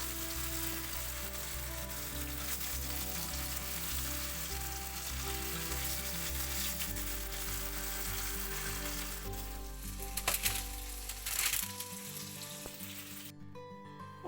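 Tushpara dumplings fry in a pan with a steady, close sizzle and crackle. A few louder spatters come toward the end before the sound cuts off.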